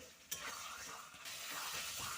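Bengali-style egg and potato curry is stirred in a pan, the spatula scraping through thick, frying masala over a steady close sizzle, with no talk.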